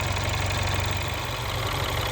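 A 2013 Mini Cooper R58 with the N18 turbo engine idles with a steady, even low rumble and a continuous drone that holds without change throughout, with no voices.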